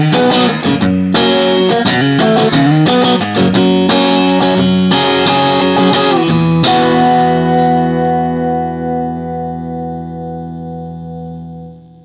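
Electric guitar played through a clean tone, with several loud strummed chords and picked notes, then a final chord left to ring and slowly fade.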